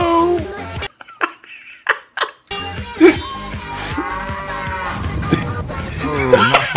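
Cows mooing on the Moo Moo Farm cow level of the Diablo video game, several loud, drawn-out moos with brief gaps, mixed with game sounds and chatter.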